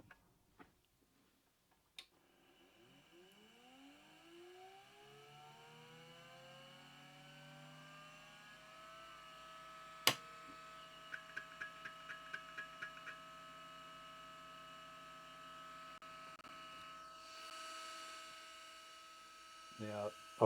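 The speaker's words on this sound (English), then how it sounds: "put the microphone up near the drive so you can get a little bit of an idea of the sound that these things make here" A SupraDrive removable hard drive in an Amiga 2000 spins up close to the microphone, its whine rising steadily and settling into a constant high hum, with a few sharp clicks and ticks partway through.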